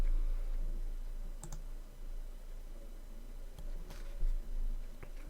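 A few sharp, quiet computer mouse clicks over faint background hiss, spaced irregularly as a link is clicked on a screen, with no talking.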